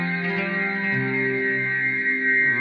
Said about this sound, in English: And if we do feedback on everything,